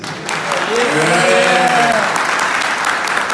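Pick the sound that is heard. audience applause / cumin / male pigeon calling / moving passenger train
audience applause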